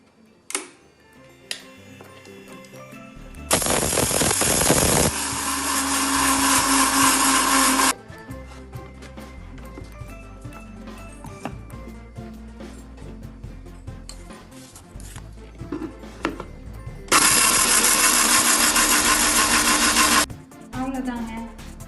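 Mixer grinder coarsely grinding idli chilli chutney powder in two loud bursts, one about 4 seconds and a later one about 3 seconds, with quieter clinks and kitchen handling noises between them.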